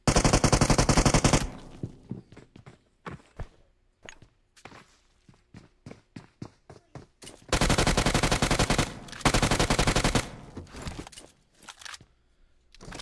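Automatic weapon fire in PUBG Mobile, with long loud sustained bursts at the start and again midway, separated by scattered single shots and shuffling footsteps, close and without talk.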